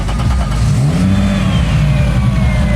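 A car engine revs hard at Ultrace 2021 in Poland, its pitch climbing steadily and then easing off, loud and close with no voices over it.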